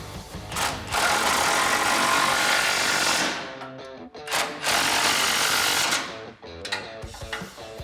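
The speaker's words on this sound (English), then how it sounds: "as well as a 19mm wrench, tighten down your bolt, holding the bumper to the bracket" Steady mechanical whirring and ratcheting while a bolt holding an aftermarket front bumper to its bracket on a 2016-2018 Chevrolet Silverado 1500 is tightened with a 19mm wrench, loud and continuous with brief pauses between bursts.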